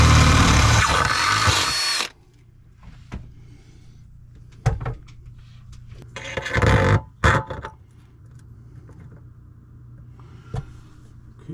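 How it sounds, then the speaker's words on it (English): A loud power drill whirs steadily for about two seconds drilling a pilot hole, worked up to 1/2 inch, for a reverse osmosis water filter install, then stops, followed by a few short clicks and knocks. "Drill a pilot hole first, working up to 1/2 inch."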